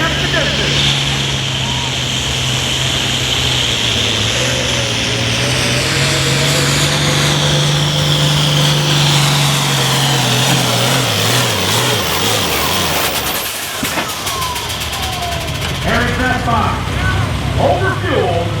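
An altered farm tractor at a tractor pull in Viola, Wisconsin, roars loudly through a long, straining engine pull that rises then cuts off, with an announcer talking over the noise.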